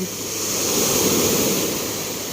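Sea waves wash onto a clean, clear beach in a steady, continuous roar of surf, with some wind noise and no talking.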